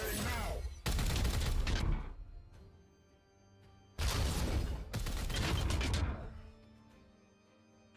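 Two long bursts of video game gunfire, each a dense roar of rapid shots lasting about a second or more, separated by quieter stretches of low rumble and mechanical tail noise.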